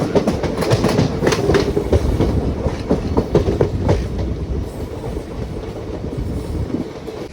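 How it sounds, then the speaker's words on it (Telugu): A DMU passenger train rumbles past at close range, wheels clattering rhythmically over the rails in a loud, steady roar with no talking. "టువర్డ్స్ బెరంపూర్ ఏదో DMU ట్రైన్ వెళ్ళిపోతుంది చూసారా"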